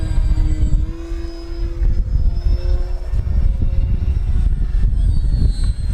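An FMS Ranger RC model airplane flies in gusty crosswind at an RC field, its electric motor whining with shifting pitch over heavy wind rumble, moderately loud and fairly near.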